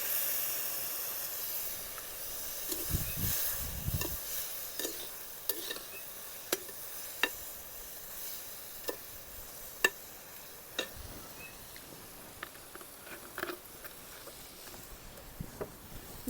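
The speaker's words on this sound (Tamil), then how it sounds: "இப்போ வினிகர் ஊற்றணும்." Vinegar poured into a pan of frying small dry fish pickle, a soft continuous sizzle and hiss with scattered clicks and stirring knocks, fairly quiet.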